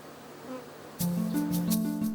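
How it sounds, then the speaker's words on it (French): Bees buzz around blossoming cherry and apple trees, a close, steady droning hum that swells and shifts in pitch as insects pass near, loud and alone without talk. "les abeilles en pleine activité"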